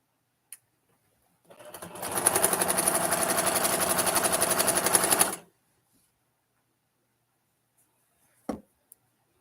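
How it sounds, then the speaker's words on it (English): A sewing machine runs in one steady burst of about four seconds while stitching a quilt border, a fast, even mechanical whir close by, with silence before and after and a couple of faint clicks. "This is riveting sewing right here."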